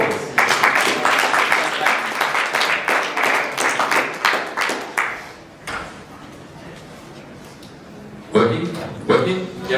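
An audience at a marketing talk claps for a speaker, a burst of hand claps that fades out and gives way to someone talking, with a short sharper clatter near the end.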